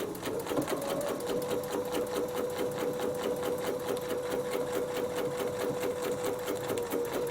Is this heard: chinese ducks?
no